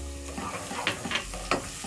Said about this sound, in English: This is one small onion, so I'm going to cook for about a minute, just until the onion is soft.